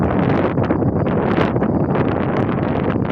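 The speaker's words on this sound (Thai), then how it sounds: "มีลมเนอะ" Wind blowing outdoors near water, a continuous loud gusty buffeting across the microphone that fluctuates but never lets up.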